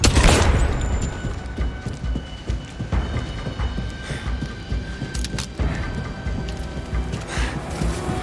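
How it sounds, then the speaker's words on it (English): A grenade goes off in the 007 First Light video game, a loud close blast at the start followed by scattered booms, crackling debris and rumbling combat noise that gradually settles. "Grenade!"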